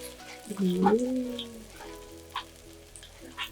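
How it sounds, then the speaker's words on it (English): Batter sizzles and crackles softly in a hot pan, with a brief murmur of voice near the start. "Now we're ready to fry."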